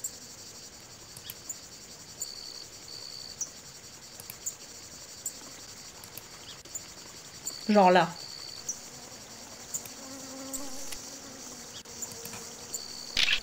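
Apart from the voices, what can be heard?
mosquitoes buzzing in the video game Forestia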